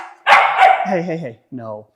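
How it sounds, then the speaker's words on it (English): A puppy lets out a burst of high, yappy barks toward an older dog, several quick sharp yips in a row followed by one more after a short pause, loud and close. "So now I'm going to start just trying to correct that barking a little bit."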